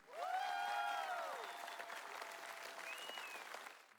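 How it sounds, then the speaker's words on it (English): Studio audience applauding at a televised talent competition, a steady wash of clapping heard alone for about four seconds, fading slightly toward the end. "Applause, please."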